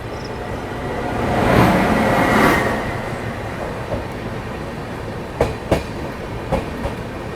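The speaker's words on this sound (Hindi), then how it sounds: "अभी हम लोग स्किप कर रहे हैं सेवाग्राम जंक्शन, और सामने से आ रही है कॉन्गो एक्सप्रेस" A train rushes past Sevagram Junction at night, a broad swelling roar peaking and fading over a few seconds, followed by sharp, separate wheel clacks and thumps on the rails as the cars run through on the main line.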